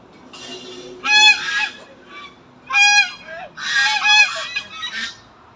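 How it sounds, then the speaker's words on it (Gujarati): Loud nasal honking calls from ducks in bursts, several birds calling over one another at close range with short gaps between. "આગળ તો અહીં બતકો છે"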